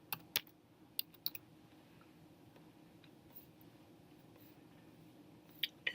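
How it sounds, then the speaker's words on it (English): Quick bursts of computer keyboard typing, a short cluster of sharp clicks near the start and a couple more at the end, with quiet room tone in between and no talk. "So let's type in Smart"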